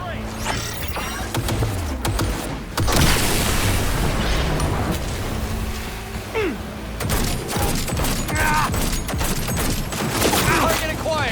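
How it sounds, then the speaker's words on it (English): Heavy gunfire and explosions in Cyberpunk 2077, dense bursts of shots and booming blasts filling the scene loudly, with a dramatic swell and a voice talking intermittently over the chaos. "Target acquired! Opening fire!"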